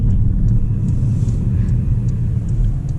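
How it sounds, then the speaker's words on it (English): Porsche Panamera Turbo with a front-mounted V8, heard from inside as a deep, steady low rumble while cruising and turning, continuous and fairly loud with no voices. "So here, you're hearing the rumble of a V8"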